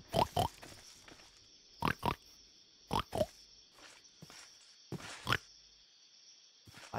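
A person imitating pig oinks, giving short snorting grunts in quick pairs and clusters spaced a second or so apart, close and fairly loud against a quiet background with a faint steady hum.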